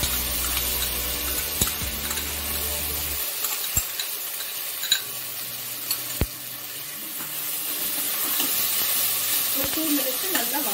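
Ginger garlic paste sautés with crisp golden fried onions for a spicy Hyderabadi mutton curry. A soft sizzle with occasional stirring clicks goes on alone, and a low rumble drops away after the first few seconds.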